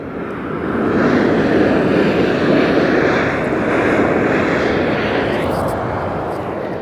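Alaska SkyWest airliner arriving at Las Vegas Harry Reid International Airport from San Francisco, a broad, steady jet roar that swells in and holds loud, with faint talk underneath.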